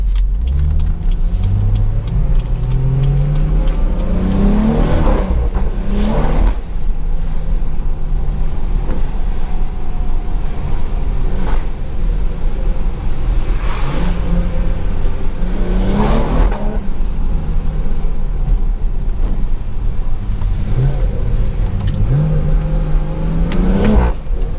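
A BMW 340i accelerates hard through repeated gear pulls, its engine note climbing in pitch, dropping at each shift and climbing again over a constant low road rumble heard from inside the car.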